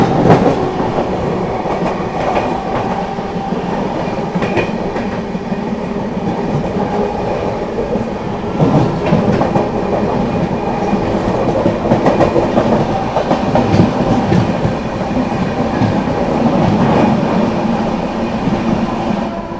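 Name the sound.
Bhiwani–Prayagraj Kalindi Express train passing, clickety-clack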